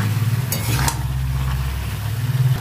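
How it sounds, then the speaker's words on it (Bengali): Chicken and chopped onion fry in a pan with a low, steady sizzle, a couple of brief bright scrapes near the start and a constant low hum beneath. "পেঁয়াজটা ভালো করে ভেজে নেবো।"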